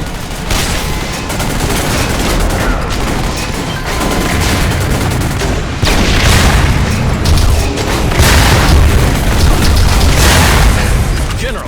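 Missile turret being destroyed in the video game Section 8: Prejudice, with a dense, loud run of booming blasts and rapid gunfire bursts that continues throughout.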